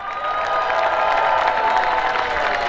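Outdoor crowd cheering and clapping for Team Brunel at a Volvo Ocean Race sailing event at Kai Tak cruise terminal in Hong Kong, a steady, dense roar of voices and applause sustained throughout.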